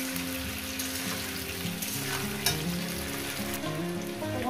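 Cauliflower and potato fry in a pan with a dense, continuous sizzle and crackle, with occasional stirring scrapes and a low background hum throughout.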